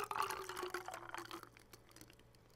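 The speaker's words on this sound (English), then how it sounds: "Pour it all in here." Liquid pours into a cup in the game Barista Simulator: a short, close gurgling splash with bubbly pitch, tapering off within about a second and a half into faint drips.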